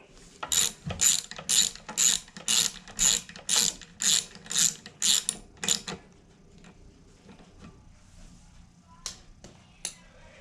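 A ratchet clicks through about a dozen quick, even strokes while tightening a bolt on a Briggs and Stratton carburetor, loud and close, then stops, followed by a couple of faint clicks.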